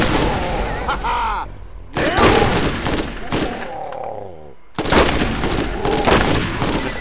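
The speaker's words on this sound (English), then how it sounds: "Just love shooting people." Bursts of rapid gunfire and explosions in the Borderlands video game, loud volleys broken by short lulls, with players talking and game sounds in between.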